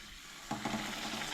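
Banana buns dropped into hot oil, a sudden burst of frying that settles into a steady sizzle, heard close up with no talking.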